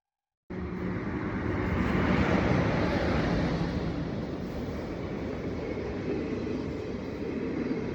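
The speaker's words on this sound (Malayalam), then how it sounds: "ലാസ്റ്റ് ഇതാ നമ്മുടെ ട്രെയിൻ വരുന്നുണ്ട്" A train rumbles into a station in Kochi, a broad steady roar rising quickly and holding loud, with a wind-like rush and no voices.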